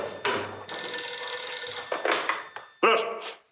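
A telephone rings with repeated bursts in a Greek sitcom scene, one long ring followed by shorter ones, clear and near, with some thumps and brief voices around it.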